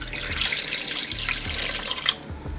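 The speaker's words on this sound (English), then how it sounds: "Okay, and I'm gonna add water to this as well." Tap water runs steadily into a pot while beef birria broth is being made in a home kitchen, a continuous close splashing stream with no talking.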